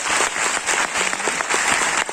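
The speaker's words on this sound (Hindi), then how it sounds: "तो हमारी देश की जितनी भी महिलाएं हैं उनके लिए जोरदार तालियां होनी चाहिए।" An audience at a business presentation breaks into loud, steady applause, many hands clapping densely and continuously throughout.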